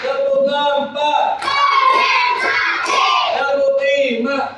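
A classroom of fourth-grade schoolchildren chanting and shouting together in a rhythmic clapping routine, voices loud and overlapping, with accented claps punctuating the chant.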